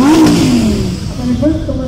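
A Lamborghini Huracan with a 5.2-liter engine revs at a sports car festival in Kitzbühel, its engine note rising and falling in loud, continuous sweeps beneath a crowd murmur and talk.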